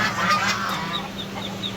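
Ducks on a farm in late afternoon call out loud and close, a few honking quacks in quick succession over a steady background murmur.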